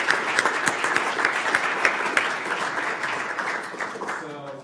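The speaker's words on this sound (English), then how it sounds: "And then another round of applause." A room full of people applauding loudly, the clapping thinning and fading near the end as a voice begins to speak.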